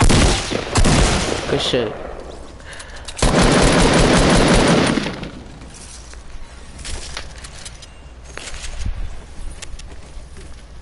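Gunfire in Fortnite: sharp shots and a dense, loud burst of firing around three to five seconds in, with scattered later shots beneath a player's casual talk.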